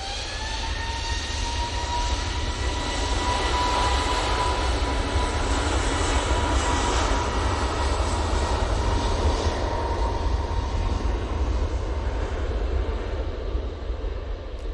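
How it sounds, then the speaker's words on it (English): An easyJet airliner with CFM engines powering up for takeoff at Manchester Airport, a loud sustained jet roar with rising whining tones, close and continuous with no talk. "Easyjet lined up and ready to go now. Let's have a look at that CFM Elite"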